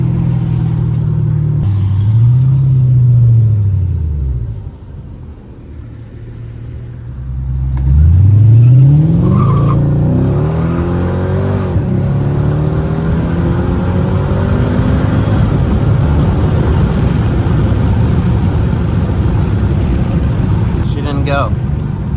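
A Mercedes W211 E55 AMG V8 accelerating hard, a loud close engine rumble and rising revs that drop off, then build again into a sustained roaring run, with people talking over it.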